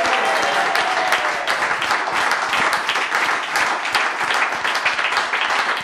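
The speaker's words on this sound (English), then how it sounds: "Give yourself a big round of applause." A capacity studio crowd at a TV show taping claps and cheers in a dense, sustained burst of applause, loud and close, with no talk over it.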